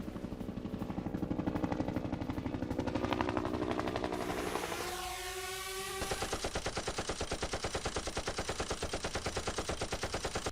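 Rapid bursts of automatic gunfire crackle across the Mahajan firing range in Rajasthan during a joint India-Britain anti-terror exercise, a dense rhythmic rattle that briefly fades into a sweeping roar before loud, even shots resume.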